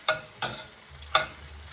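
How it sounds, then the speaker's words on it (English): Chicken adobo with bay leaves cooking in a pan, heard as four sharp stirring scrapes at a steady rhythm over a low, continuous simmering hiss, close and moderately loud, with no talking. "Let this simmer for 5 minutes so that the bay leaves will sink in"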